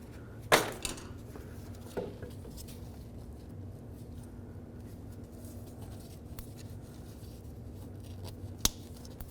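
Side cutters snipping off the excess end of a wire tie on a Nissan Murano inner tie rod boot, a single sharp snip near the start followed by fainter clicks and a later tap in a quiet workshop.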